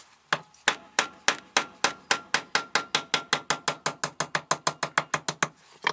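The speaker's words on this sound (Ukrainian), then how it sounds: "Треба було просто його вибити гарно, тільки я його вже вибив." Rapid, steady metal-on-metal hammer blows, about two dozen evenly spaced sharp strikes, close and loud, as a bolt is knocked out of a chainsaw carburetor; no talking.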